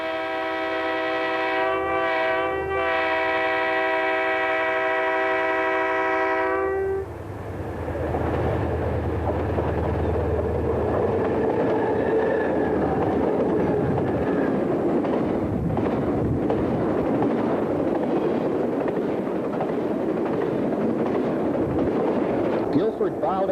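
A westbound Guilford D&H double-stack freight train hauled by three Susquehanna SD-45 diesel locomotives, opening with a loud multi-tone horn blast, then a long heavy roar and rumble of engines and rolling cars passing close by.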